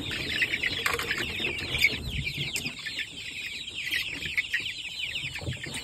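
Dominant CZ chickens and chicks cluck and flap their wings close by while being given a deworming drink mixed in water; the calls overlap in busy, irregular bursts.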